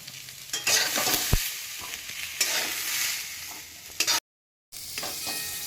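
Vegetables sautéing in a pan with a steady broad sizzle and scraping stirring strokes, close and fairly loud, broken by a brief silent gap near the end before the frying resumes.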